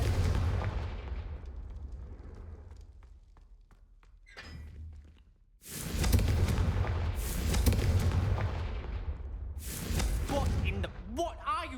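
Confringo fire spell blasts in the video game Hogwarts Legacy, several heavy booming explosions with rumbling tails, loud and close, with a voice talking between them.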